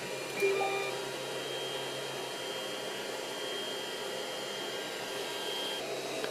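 A Creality CR-10 3D printer runs its motors with a continuous even whir and hum, fairly quiet and steady from start to finish, with a faint brief whine near the beginning and no voices.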